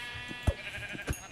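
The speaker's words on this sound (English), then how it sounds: "Oh, sheep!" Sheep in the Minecraft video game bleat in a few short, soft calls over quiet background game music.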